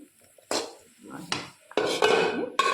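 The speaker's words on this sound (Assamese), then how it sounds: "ঢাকন দি ঢাকি দিওঁ" A metal lid set onto a cooking pot on the stove while dry roti and a pumpkin and soybean curry are prepared, giving several sharp clanks and rattles spread across a few seconds, close and fairly loud.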